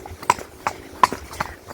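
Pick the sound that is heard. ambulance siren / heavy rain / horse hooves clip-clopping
horse hooves clip-clopping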